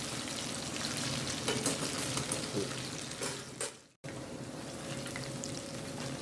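Chicken 65 pieces deep-frying in hot oil give a steady, dense sizzle and crackle that cuts out for a moment, then resumes at the same level.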